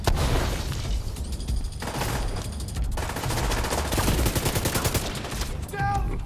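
Sustained light machine gun fire in The Division 2, rapid bursts crackling continuously and loudly across the scene with brief pauses, plus small mechanical clicks near the end.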